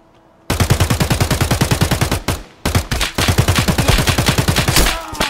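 Loud, close automatic gunfire in Escape from Tarkov, rapid steady bursts with a brief pause midway before firing resumes, ending in a headshot.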